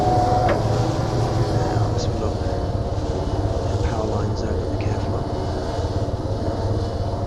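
Helicopter slowing into a hover in Arma 3, a steady droning engine and rotor hum with a continuous low throb, a voice talking over it.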